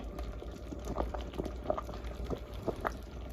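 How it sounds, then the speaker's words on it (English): Pot of liquid at a rolling boil on a stove in a tiny cabin, a continuous bubbling patter with scattered louder pops and blips, close by and with no talking. "I seem to have gotten the perfect boil going here"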